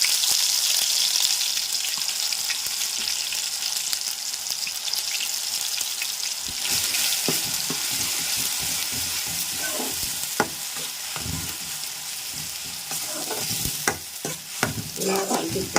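Ginger garlic paste frying in hot oil in a pan for a cashew cauliflower curry, stirred steadily; a constant close sizzle with scraping stir strokes and clinks growing busier toward the end.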